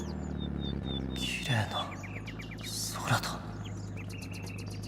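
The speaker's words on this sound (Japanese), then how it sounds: "鳥の声" In a Japanese voice drama, birdsong sounds as thin, high chirps and trills across an open, airy outdoor scene, while someone speaks over it.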